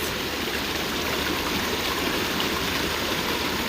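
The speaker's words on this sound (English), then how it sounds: "I'm actually out sitting in front of a nice little waterfall." Steady rushing and splashing of a small waterfall, continuous and close, with no voices.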